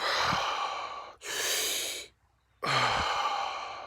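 Deep, forceful Wim Hof breathwork outdoors on grass near snowmelt: a long loud inhale, a strong exhale, a short silent pause, then another heavy inhale, close to the microphone.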